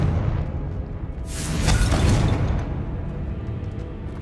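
A Confringo fire spell in the Hogwarts Legacy video game bursts into a single loud explosive whoosh and boom, rising out of a low background rumble and fading after about a second.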